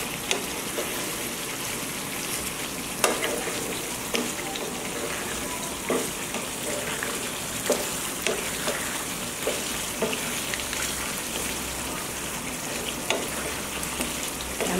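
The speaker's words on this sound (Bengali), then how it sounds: "4-5 মিনিট একটু কষিয়ে নেব।" Meat being sautéed and stirred in a pan, a constant crackling sizzle with periodic scraping knocks of the spoon against the pan, close and even throughout.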